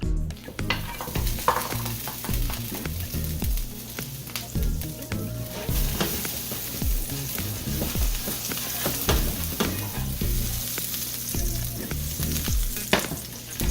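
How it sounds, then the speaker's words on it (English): Butter sizzling steadily in a pan while sauteing marinated chicken for a homemade pot pie, a loud continuous crackle with scraping stir strokes throughout and no talk. "And now I'm going to saute. Got some butter."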